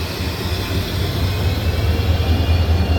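Riding on a train in Bengal, a loud steady low rumble and rolling drone of the carriage in motion, close and continuous with no voices over it.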